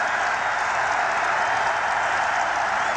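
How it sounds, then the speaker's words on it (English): Large football stadium crowd at a 1993 UCLA at USC college game roaring and cheering, a loud, dense, sustained wall of noise that holds steady without breaks. "the crowd is now setting up a din and cry"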